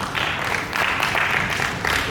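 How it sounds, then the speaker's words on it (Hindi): A theatre audience at a stage play about 15 August gives steady, thick applause for the performance. The clapping is continuous and fairly close, with slight surges in intensity. "जोरदार तालियां बजती रहनी चाहिए इस प्रस्तुति के लिए"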